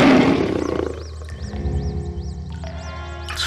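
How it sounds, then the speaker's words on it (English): A lion lets out a loud, angry roar, deep and sustained, followed by a rumbling tail with a warbling, whooping tone layered over it. "The lion was mad in anger to hear of another lion and gave out a loud roar."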